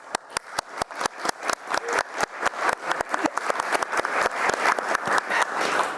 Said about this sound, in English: Thanks again for the big applause.